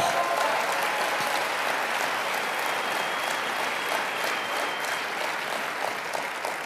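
Loud, sustained applause from an audience, steady clapping filling the whole stretch without a break.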